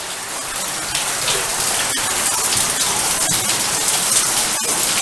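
Heavy water dripping and pouring from a cave ceiling, loud and steady like rainfall, with a few sharper individual drops landing close by.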